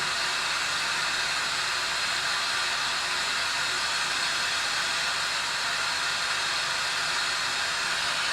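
A glassblowing torch flame roars as a steady, loud, even hiss while it heats a borosilicate glass rod for a dichroic marble, constant and close with no voices.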